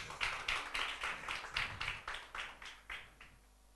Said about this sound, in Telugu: మీకు కూడా మీరే క్లాప్స్ కొట్టుకోండి.